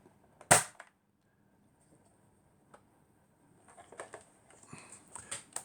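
A Nerf Mediator blaster fires one sharp, loud snap near the start, then quiet, then a run of small plastic clicks and clacks toward the end as the blaster is handled.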